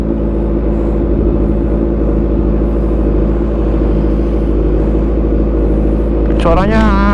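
A fully modified 2014 Kawasaki Z1000 Sugomi motorcycle engine holds a loud, steady rumbling idle close by, then revs sharply upward near the end.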